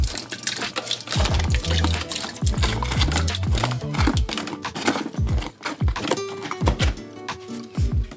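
A cup each of chopped celery and onions drops into a cooking pot for stew chicken and rice, a quick series of close thuds, splats and sizzling bursts with a few scraping taps.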